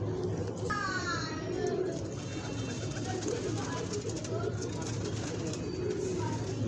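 Ferozpuri pigeon chicks in a home breeding loft give soft cooing and chirping calls, with a few squeaky call trills early on, under steady background noise and nearby voices.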